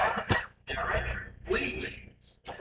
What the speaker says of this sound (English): I seem to have picked up just a little bit of a cough